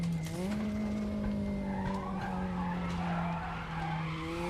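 A Porsche 944 slides through Paddock Hill at Brands Hatch in the RaceRoom racing game, its tires squealing in a long, loud, continuous skid over a steady engine drone.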